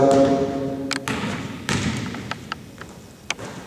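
A basketball dribbled and bouncing on a court during shooting practice: a few sharp thuds spaced across the moment, with faint ambient noise between them.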